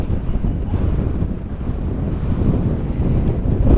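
Strong wind roars into the microphone during a DJI Mavic Air 2 drone flight test over a grassy field, a dense, steady, loud rumble with gusty swells and no talking.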